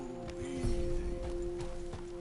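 Rhythmic clip-clop of horse hooves at a steady gallop in Red Dead Redemption, with a constant low mechanical hum underneath.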